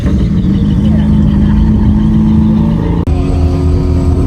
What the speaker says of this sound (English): big units, V8 supercars. These make good noises.